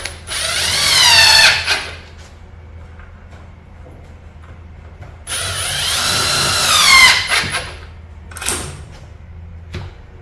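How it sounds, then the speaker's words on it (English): A power drill drives a number 30 screw into a KICK Armada 55-inch foosball table during assembly, two loud whirring bursts of about two seconds each, with a brief faint burst afterward. "Insert your number 30 screw and secure."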